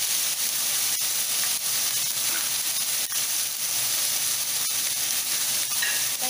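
Chicken stir-fries in a pan with a constant loud sizzle and hiss, broken by faint scraping ticks of stirring, close up with no talking.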